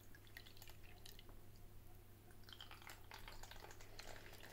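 Water seeping and dripping through a paper filter from a water-bottle survival kit, a soft continuous trickle with scattered close drips that grow busier toward the end, with no voices.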